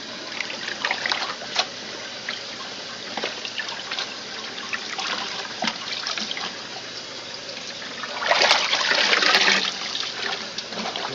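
A Simplicity twin-tub washing machine spin-rinses laundry, water trickling and splashing steadily nearby with a louder gushing surge toward the end.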